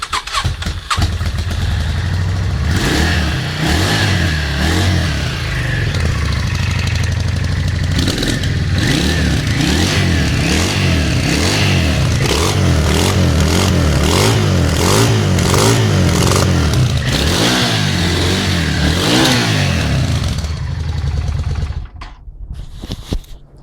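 A Yamaha Dragstar 650 motorcycle engine with its AIS removed fires up and revs repeatedly, loud and close, throttle blips rising and falling in a rough rhythm before it cuts off near the end.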